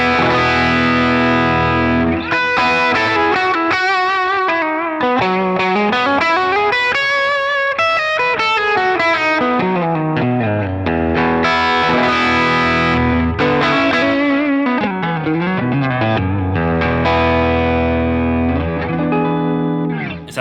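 Heavily distorted electric guitar through two blended amps, one cleaner than the other, with a thick, layered tone, playing sliding riffs and bends continuously and loudly for the whole stretch, with no talking.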